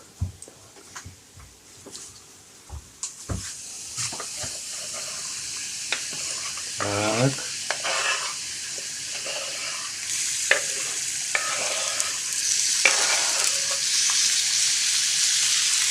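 Mushrooms frying with tomatoes, onion and garlic as they are stirred in the pan: sharp clatters and scrapes at first, then a loud, building sizzle and hiss, with no talk.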